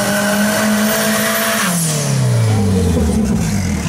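A boxy VW Gol drag-racing car at a drag strip revs hard and close, its loud engine note holding steady and then sweeping down and back up.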